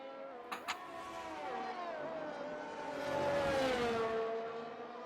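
Race cars in the F1 23 video game, engines whining and revving as one car overtakes another in wet conditions, a sustained rising and falling drone with a louder pass near the end.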